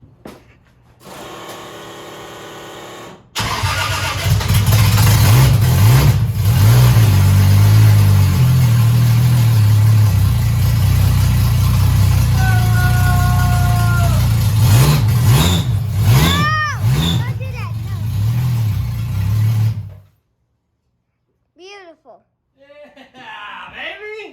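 A Toyota 2JZ engine on its first start runs loud and close, idling roughly before revving repeatedly in rising bursts, then cutting off abruptly near the end.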